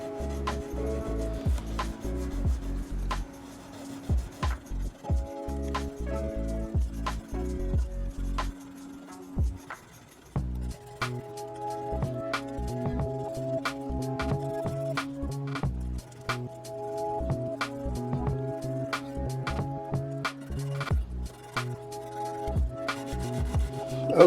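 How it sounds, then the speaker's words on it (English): Soft rubbing and rasping of 1000 grit sandpaper on the fret ends of a Jackson Dinky guitar, repeated in short strokes, close up and fairly quiet, under a ringing tone that continues throughout. "just a little 1000 grit sandpaper, trying to hit these corners nicely"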